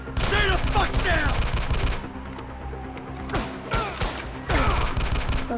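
Bursts of rapid gunfire from the video game GTA V crackle in short volleys with brief pauses between, while a voice speaks over parts of it.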